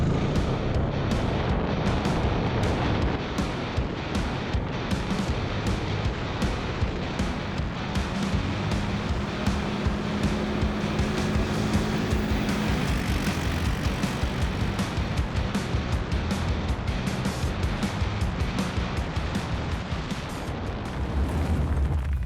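A 2023 Can-Am Outlander PRO HD5 ATV runs flat out along an empty gravel road, its engine roaring loud and steady with continuous rumble and tire-on-gravel noise, no talking.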